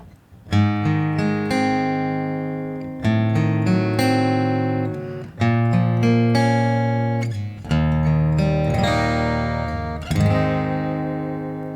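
A guitar plays a melodic intro alone, each plucked note ringing out and overlapping, with a few louder accents breaking the steady sustained chords.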